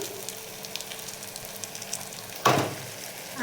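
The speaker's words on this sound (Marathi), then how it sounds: "टोमॅटो टोमॅटो तेलामध्ये घेऊयात छान परतून" Tomatoes frying in oil in a pan for a whole masoor dal dish, a soft continuous sizzle with one louder hissing burst partway through, close and without speech.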